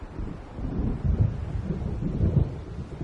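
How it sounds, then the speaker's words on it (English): Deep rolling thunder of an approaching storm in Alan Wake Remastered, a low, sustained rumble that swells twice over steady rain and wind noise. "It seems there's a storm coming."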